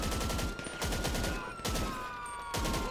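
Rapid automatic gunfire from GTA 5 Online, loud close bursts of shots in quick succession with short gaps between volleys, ringing synth-like tones underneath.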